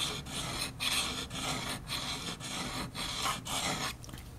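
A multi-tool file sharpening a can opener blade, close rhythmic rasping strokes about twice a second, steady and fairly loud with no talking.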